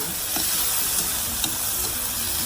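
Shrimp sizzles steadily as it finishes stir-frying in a single pan for Vietnamese crispy noodles, a dense continuous hiss with a few faint stirring scrapes and no voices.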